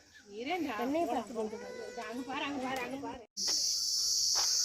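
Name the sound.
insects chirping in forest at Kurumbapatti zoo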